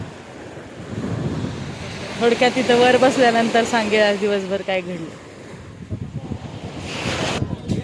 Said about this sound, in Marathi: हा आहे दादरचा समुद्र